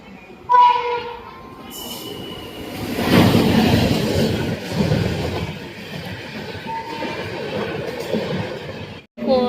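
A crowded train pulling into a station, a low rumbling roll swelling as it nears, with a short horn-like tone at the start, steady clatter beneath and people talking faintly around.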